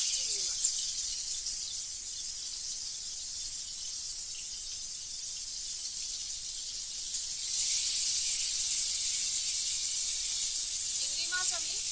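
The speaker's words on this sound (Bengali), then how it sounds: "চিংড়ি মাছ আমি হালকা লাল লাল করে ভেজে নেব।" Prawns rubbed with salt and turmeric sizzle in hot oil for a Bengali fig-and-prawn dish, making a continuous close hiss that grows a little louder partway through.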